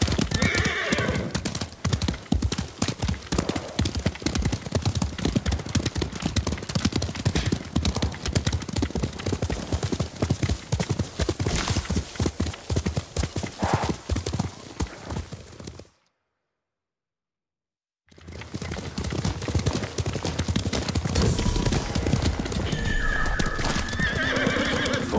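Horses in the samurai video game Ghost of Tsushima gallop with steady, rapid hoofbeats and loud neighs and whinnies, close and continuous, broken by a brief silent gap before the riding resumes.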